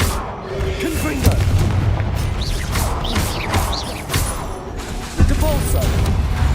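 Confringo spell explosions from Hogwarts Legacy, several booming blasts and crashes in quick succession amid a dense, noisy combat mix with a voice casting spells.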